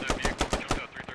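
Rapid machine gun fire in a first-person shooter video game, a quick burst of about seven sharp shots in a tight rhythm, close and loud.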